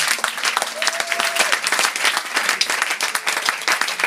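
A church congregation applauds, dense and even clapping from many hands that keeps going the whole time, with a few voices mixed in.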